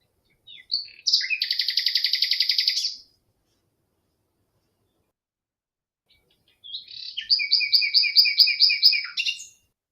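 Nightingale song comes in two clear bursts of rapid, repeated whistled notes, the first trilling phrase, a pause of silence, then a second longer, stuttering run of high notes, fairly close with no other sound.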